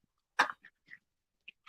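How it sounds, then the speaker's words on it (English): Dogs at play in the background, a few short, sharp yelps and huffing sounds scattered across otherwise quiet moments, one louder burst followed by fainter ones. "if you hear crazy dogs playing in the background"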